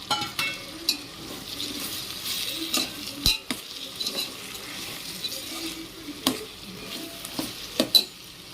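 Tomatoes go into a pan of sautéed onions for a vegetable biryani, a soft sizzle running under repeated spoon scrapes and clinks against the pan.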